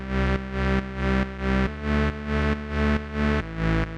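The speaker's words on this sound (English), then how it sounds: "add a nice little reverb to give some space" A distorted synth plays a rhythmic sequence of sustained, pulsing chords, each note swelling with a washy, spacious tail.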